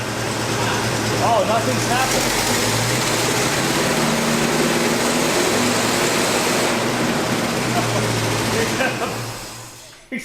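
An old GMC truck's V8 idles rough and uneven, not firing on all eight cylinders, a loud steady rumble with a constant drone throughout while people talk briefly nearby.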